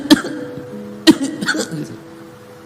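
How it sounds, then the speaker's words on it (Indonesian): Three sharp coughs spaced apart, close and loud, with a few short vocal sounds in between. "sopir itu batuk-batuk gini."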